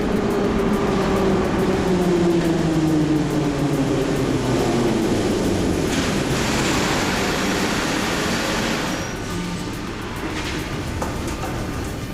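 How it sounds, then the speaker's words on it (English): A Kyiv Metro train rumbles close by as it arrives at a station, with a descending whine as it slows, a broad roar that gradually eases and quiets toward the end. "Alright, this is my train. I'll get on here."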